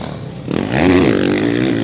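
A motocross bike accelerates hard on a French championship track at Gaillac-Toulza, its engine note rising sharply from a low rumble into a loud, close revving whine that holds steady.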